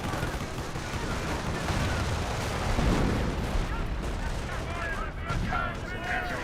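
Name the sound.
gunfire and artillery in the video game Company of Heroes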